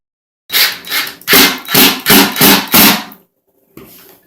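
Screws driven by hand into end panel brackets of a KICK Royalton 55" foosball table, through holes that are not pre-drilled: six loud, rhythmic grinding bursts in a row, then a pause and a fainter final turn.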